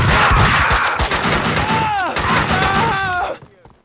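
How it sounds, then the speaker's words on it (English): Dense, rapid gunfire in Max Payne 3 rattles in loud bursts, with shouting voices and echoing cries over it before it cuts off abruptly. "Someone must have heard the gunfire."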